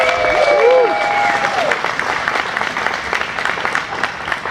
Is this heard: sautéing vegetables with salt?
no